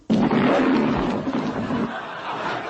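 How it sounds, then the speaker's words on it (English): A comedy alarm sounds a lion roar, a loud sustained growling roar that holds for nearly two seconds and then trails off into a rumbling tail, with no talking over it. "Carol alarms are also available in lion"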